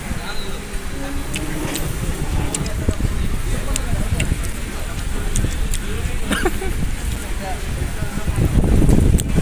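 Wind sweeping across the bank of the Brahmaputra river at an eco park in Amingaon, Guwahati: a continuous loud rumbling buffet against the microphone, swelling toward the end, with faint voices beneath.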